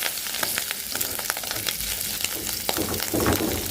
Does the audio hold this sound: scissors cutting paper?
no